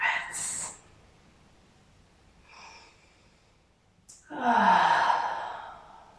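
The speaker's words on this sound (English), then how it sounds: "So just taking a few deep breaths." A few deep breaths drawn during a yoga breathing practice: a soft inhale and sigh, a faint breath in the middle, then a longer, louder exhale, close and with no talking.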